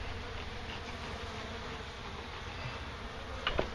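A swarm of honey bees buzzes in a steady, dense drone while being smoked out during removal from a house ceiling and roof in Wellington, Florida, with a brief louder bump near the end.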